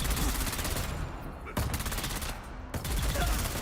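Elite guards firing missile wands in a video game, a continuous heavy barrage of shots with a few sharp louder bursts cutting through.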